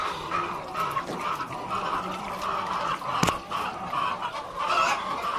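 Hens cluck and chatter steadily in a poultry shed built over a fish pond enclosure, including sick hens that no longer lay eggs, a moderately faint flock sound with one sharp knock partway through.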